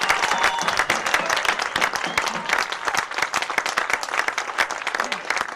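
A baseball crowd at Burke Black vs West Fargo applauds a pitcher, dense sustained clapping with sharp individual claps close by and scattered cheering, steady throughout without talk.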